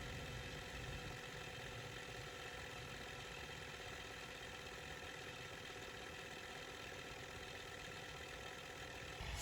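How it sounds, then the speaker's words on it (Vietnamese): Emerson 1986 Hi-Fi VCR mechanism rewinding a tape, a very faint, steady whirring hum with no breaks. "Mình thử tua băng nè."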